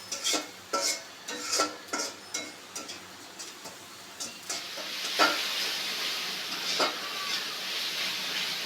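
Onions fry in a little oil in a pan with a steady sizzle, close and fairly loud, broken at first by a series of rhythmic scraping stirs, then settling into continuous hissing.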